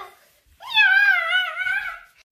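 A girl imitates a cat with a single drawn-out, whiny meow that rises and wavers, loud and close, lasting well over a second.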